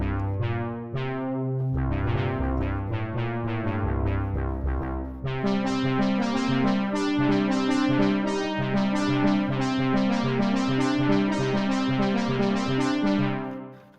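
A Matrix-style synth bass from the Beatskillz Dark-KZ plugin pulses in repeated short notes, joined midway by a fuller, brighter layer, looping rhythmically before cutting off at the end.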